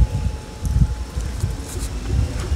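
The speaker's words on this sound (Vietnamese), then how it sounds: "Ở dưới đây gió lớn." Strong wind buffets the microphone outdoors at a grave site, a steady low roar with gusty swells and faint rustling throughout, with no voices.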